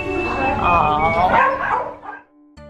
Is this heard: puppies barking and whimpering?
yes